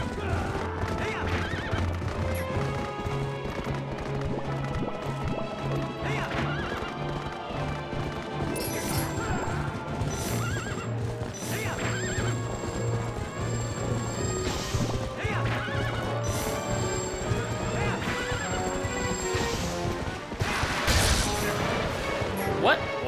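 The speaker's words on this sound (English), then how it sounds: "Although he has like an evil demon horse" A horse neighs and whinnies in the video game Zelda: Twilight Princess, heard over steady game music with clip-clopping hooves and occasional crashes.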